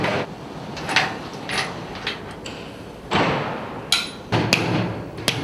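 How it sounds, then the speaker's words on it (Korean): Hammer blows driving bolts into a steel frame on a high-rise structural steel construction site, several sharp metallic strikes at irregular intervals, loudest around the middle and end, over steady site noise. "볼트가 잘 들어가지 않을 때는 망치를 사용하는 수밖에 없다"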